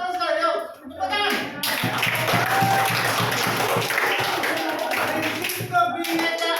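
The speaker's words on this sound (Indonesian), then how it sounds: "Yuk, tepuk tangan" A class claps together in a burst of dense, sustained applause lasting several seconds, close and loud, with voices talking briefly before and after.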